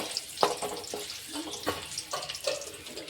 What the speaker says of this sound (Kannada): ಈರುಳ್ಳಿ ಸೇರಿಸ್ತೀನಿ ರೀ ಇದು ಒಂದು ಸ್ವಲ್ಪ ಫ್ರೈ ಮಾಡ್ಕೊಳಮ್ರಿ